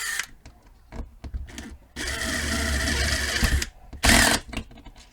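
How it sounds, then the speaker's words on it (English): A power drill driving or drilling out a screw whirs in short bursts, first brief spins, then a steady sustained run, then another quick burst, loud and close with no talking. "Now I'm going to set this by drilling it out or screwing it in"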